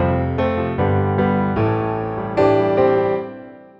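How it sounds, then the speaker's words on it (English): A software piano instrument plays notes and chords one after another in a gentle sequence, ringing out with a soft wash of reverb tail. "I have a piano software instrument here which sounds like this."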